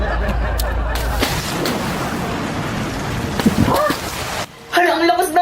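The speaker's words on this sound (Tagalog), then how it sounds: "Hala, ang lakas ng ulan." Heavy rain pours steadily in a dense, close wash of drops for several seconds, then cuts off abruptly before a brief burst of other sound.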